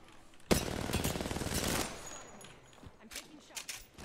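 Rapid, loud automatic gunfire in Apex Legends rattles for over a second, then scattered sharper shots follow more sparsely, with a voice talking over part of it.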